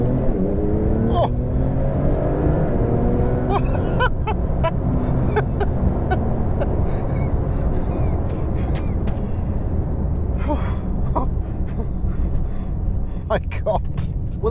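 A 2021 Porsche 911 Turbo S (992) accelerates hard, its deep engine note rising through gears as a loud, continuous roar from inside the cabin, with people talking over it.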